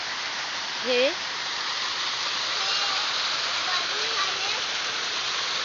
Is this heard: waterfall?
yes